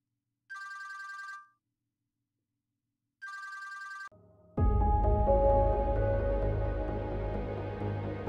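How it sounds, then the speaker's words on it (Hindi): A telephone rings in a Pakistani drama scene: two bursts of bright electronic ringing separated by silence, then the ringing stops and dramatic background music swells loudly. "उमर फोन उठाओ"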